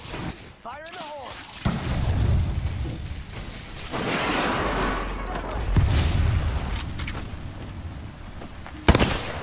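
Grenade explosions and gunfire in the video game Apex Legends, with a low booming blast partway through, scattered shots, and a sharp crack near the end, under game voice chatter.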